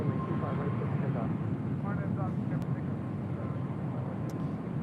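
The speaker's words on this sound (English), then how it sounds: "Next arrival here on the south side is American Airlines Flight 288 coming in from Chicago O'Hare, the 737-800." An American Airlines Boeing 737-800 arriving at LAX gives a steady, loud jet roar with a broad, even rush, heard along with voices and radio chatter.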